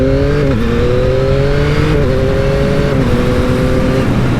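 A loud Yamaha MT-09 motorcycle engine drones steadily while rapid quick-shifter gear changes cause brief pitch drops, the revs climbing again after each quick shift.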